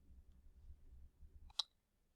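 A single sharp computer mouse click lands near the end, short and clear against a quiet, low background hum.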